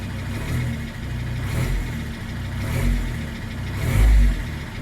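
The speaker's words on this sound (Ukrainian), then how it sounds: "Вирівнявся холостий ход" Car engine idling close up while the throttle pedal is blipped, a steady low rumble swelling in several brief revs, the last one strongest.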